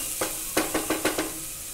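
Bitter gourd bhaji with jaggery is stirred in a pan, giving five quick scraping strokes in a short rhythmic burst over a soft close sizzle, with no speech.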